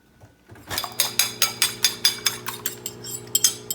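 Two eggs beaten in a bowl, a quick, steady clatter of a utensil knocking against the dish, roughly a dozen rhythmic strokes, close and clear with no talking.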